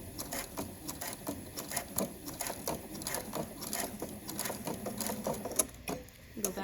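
A sewing machine stitches elastic onto a cloth mask, giving a steady, rapid mechanical clatter of needle strokes that runs without a break, close and moderately loud.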